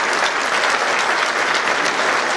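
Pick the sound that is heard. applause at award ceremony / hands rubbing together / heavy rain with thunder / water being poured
applause at award ceremony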